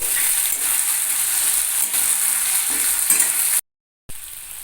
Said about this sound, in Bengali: কুচিয়ে রাখা টমেটো এবং তিনটে গোটা কাঁচা লঙ্কা কড়াইতে দিয়ে দিয়েছি